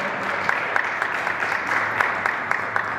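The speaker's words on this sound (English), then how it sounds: "I want them to stand so that you can give them a round of applause." A graduation ceremony audience claps for the graduates, a steady moderate applause with scattered sharper claps standing out, heard from within the room.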